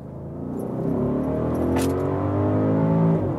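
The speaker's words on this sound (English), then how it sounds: "Then you just use the shifting lever and switch from D to S shifting mode." Audi V8 petrol SUV accelerating in sport mode, a steady rising engine drone heard from inside the cabin that swells and holds strong for a few seconds, no talking.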